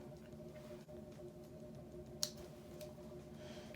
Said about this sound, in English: I'm literally just recklessly chopping hair off.